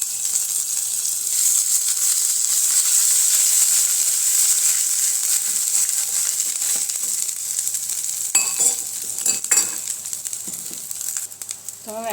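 Hot oil sizzles loudly in a pan as tempering spices and ginger-chili-garlic paste go in for a dhokli vegetable dish, a steady close frying hiss with a few clinks and stirring scrapes near the end.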